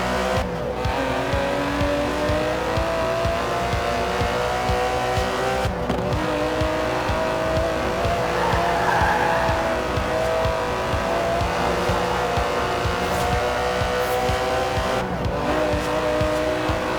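An Aston Martin DB11 with a 5.2-litre twin-turbo V12 in Forza Horizon 4 drones loudly and continuously at sustained revs, with brief tire squeal and shifts in pitch as it drives hard.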